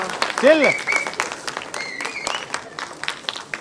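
Loud audience applause at a teaser launch event for the Kannada action thriller film Phoenix, dense clapping with a few whistles and cheers rising through it, steady and close throughout.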